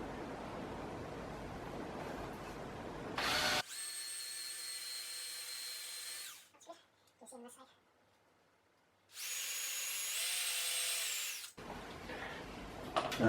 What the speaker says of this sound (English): So then I'm going to pre-drill 2 holes for screws, one on either side.